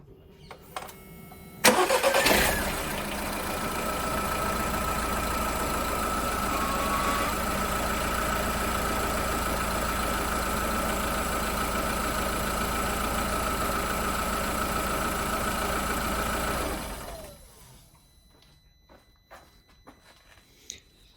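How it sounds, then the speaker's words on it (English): A 2012 VW Polo engine cranks and catches, then settles into a steady, even idle for about fifteen seconds before shutting off, leaving near silence. "I'm gonna start the engine and then let it run for a few seconds"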